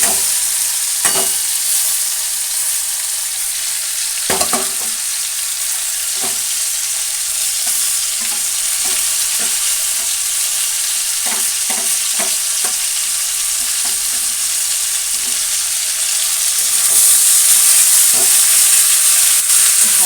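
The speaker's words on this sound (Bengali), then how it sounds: "এরপর সবজিগুলো আবার কড়াইতে দিয়ে দেব" Cabbage, potato, onion and ridge gourd fry in a wok with a steady, close sizzle, broken by frequent scraping stirs and clatters of the spatula throughout, with no voices.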